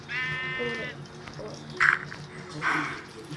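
Sheep bleating in a video game: a long, wavering bleat rings out near and clear at the start, and shorter game sounds follow while a voice talks over the rest.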